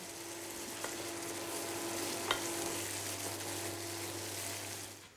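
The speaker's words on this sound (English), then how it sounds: "The livers that have been set aside are added and briefly cooked in the sauce." Calf livers briefly simmering in a crème fraîche sauce in a pan: a soft, even bubbling sizzle held throughout, fairly faint, with a couple of tiny clicks and no talking.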